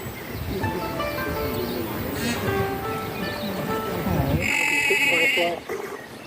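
Black sheep bleat outdoors on a farm visit near Wellington, a few drawn-out nasal calls rising over people chatting, with a louder, closer bleat toward the end.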